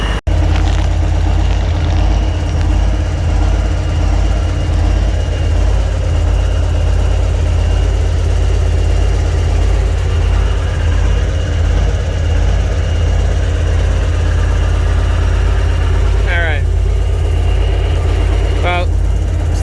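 A Freightliner cabover truck with a Big Cam Cummins diesel idles steadily throughout, a deep constant low rumble close by, with brief chirping squeaks near the end.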